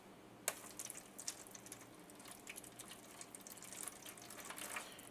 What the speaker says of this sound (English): I'm going to throw just a little bit of water in there